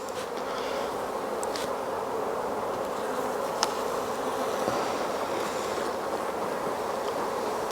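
Honeybees swarm around an open hive frame during a comb change, their dense, steady buzz holding close and even throughout with no talk over it.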